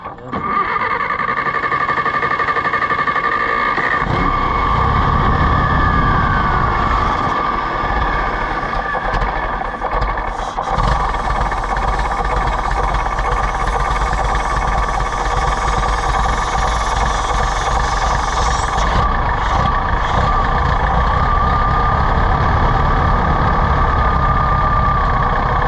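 An Allis-Chalmers WD tractor engine runs and idles with a steady, loud, rough throb that continues throughout. A voice speaks over it at times.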